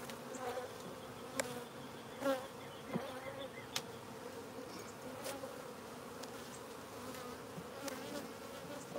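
Honey bees buzz in a steady, dense drone around an open hive during an inspection, with faint handling knocks and clicks and no talk.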